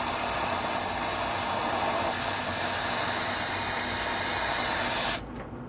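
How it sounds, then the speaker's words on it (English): Steady loud hiss of steam venting from the valve of a Power Pressure Cooker XL, continuous and close for about five seconds before cutting off abruptly as the valve seals. "You can see the steam coming now."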